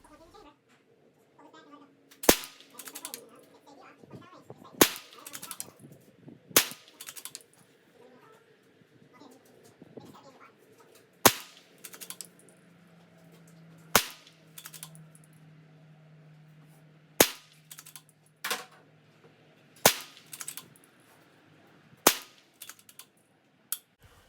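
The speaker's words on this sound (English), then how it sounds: "Now let's move on to the 22 subsonic hollow point Aguila ammo." A Ruger Precision Rimfire fires Aguila 22 subsonic hollow point rounds at a 50-yard range, about ten sharp, fairly quiet cracks spaced a few seconds apart with lighter clicks and handling noise between shots.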